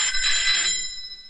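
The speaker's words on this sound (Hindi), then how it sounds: "फोन बज रहा है तेरी।" A telephone rings with a bright, metallic electronic bell tone, a single sustained burst that fades out, close and fairly loud in a dramatic film scene.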